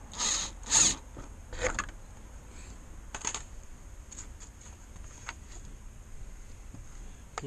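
A ratchet wrench works a bolt loose on the front fender of a Volkswagen Crafter van, giving a few sharp close clicking bursts at the start and then sparser, fainter ratcheting ticks, with no talking.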